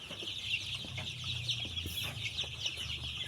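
Young chickens on a poultry farm cluck and peep in a continuous busy chorus, fairly close and unbroken, with no talking.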